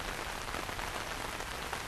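Steady, dense rain pours down during a flood on a residential street, a continuous close hiss of drops striking wet surfaces with no voices.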